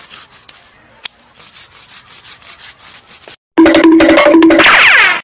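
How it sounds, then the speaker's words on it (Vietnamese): A hand saw cuts through the trunk of a mini guava tree being trimmed for bonsai, giving a few seconds of rough, rasping back-and-forth strokes before a much louder, denser burst of noise takes over. "cưa bớt cho gọn"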